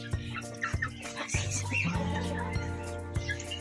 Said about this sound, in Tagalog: papakainin nila kuya yung pabos, sisiw